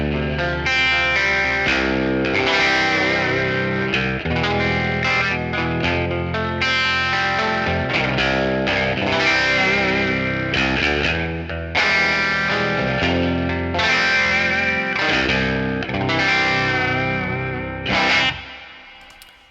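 Distorted electric guitar in low tunings played through a ToneX capture of a Vibe Rolux amp with reverb on, heavy chugging riffs and ringing chords filling the whole stretch, loud and steady, with no talking.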